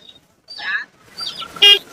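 A rooster gives a short, rough crowing call amid a few scattered noises at a market, fairly close and loud at the end.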